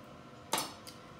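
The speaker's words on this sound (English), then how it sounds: "I'm just going to chop it in half" A knife cuts through a quesadilla on a chopping board, giving one sharp clack against the board and then a faint second tap, close and quiet with no talk.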